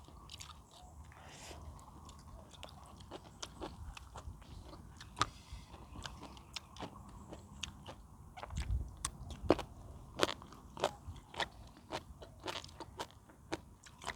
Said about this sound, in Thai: นี่มะเขือม่วงกรอบ ๆ